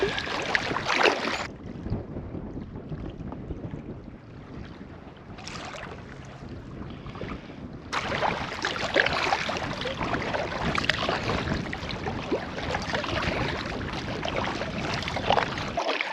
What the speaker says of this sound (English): at least paddling to this one now, we haven't got the wind